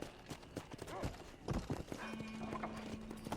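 Horse hooves clip-clopping at a steady walking rhythm in Red Dead Redemption 2, the Old West video game, close and moderately loud, with a brief horse whinny and a sustained game tone underneath.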